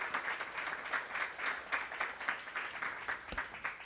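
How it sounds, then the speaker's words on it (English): Audience applause at an apartment grand opening press conference, a short burst of scattered clapping heard faintly from a distance. "you ought to clap your hands and acknowledge that these are our brothers and our sisters"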